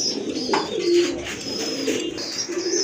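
Pair of pigeons at a market cooing softly and continuously up close, low repeated coos under a faint hiss of background noise.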